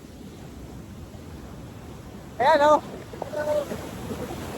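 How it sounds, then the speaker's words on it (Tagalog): Strong ocean surf at a beach in Cabangan, Zambales rumbles as a constant low wash of waves, with a brief burst of speech and a short call over it. "Kahit ang lakas ng alon oh."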